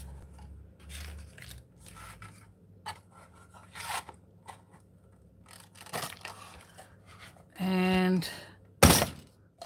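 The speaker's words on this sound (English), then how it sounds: "going to punch this masterboard, what was left of it." A paper punch forced through thick masterboard made from layered paper scraps gives a strained, buzzing creak lasting about half a second, then one sharp, close thunk. Scattered quiet handling noises and brief talk come before it.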